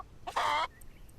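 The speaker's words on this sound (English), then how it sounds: "We do have a chicken" A chicken clucks once in a video game, a short, mid-loud burst on a sky island with faint quiet around it.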